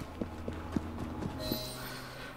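Horse hooves clip-clopping in Assassin's Creed Syndicate, a steady run of clear, evenly spaced hoof strikes on a hard street over a low hum, fading as a brighter wash of ambient noise rises.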